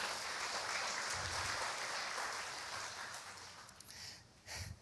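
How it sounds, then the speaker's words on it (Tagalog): A congregation at a worship service gives applause for the Lord, a steady, fairly faint patter of many hands that thins and fades near the end, with a brief louder burst at the close. "sa malakas na palakpak po para sa Panginoon"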